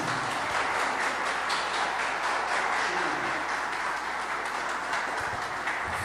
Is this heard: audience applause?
yes